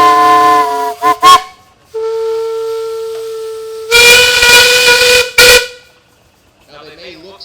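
A steam traction engine's whistle sounds at a steam tractor show in several blasts: short toots, then a long steady tone, then a louder hissing blast and a brief final burst.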